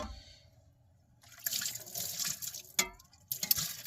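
Tap water runs at a camp sink as a washed spatula is rinsed beside a teardrop trailer: a steady close splash begins after a quiet start, with small clatters and drips.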